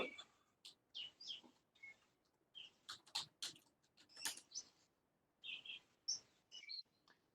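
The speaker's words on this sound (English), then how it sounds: "I hear birds in someone's house" Faint, scattered bird chirps and tweets from a house, heard over someone's open microphone during an online astronomy club meeting, in short irregular bursts with no talk.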